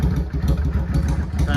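Yamaha V Star 650 (XVS650) motorcycle engine idling just after an oil change, a loud close lumpy V-twin throb with a steady uneven pulse.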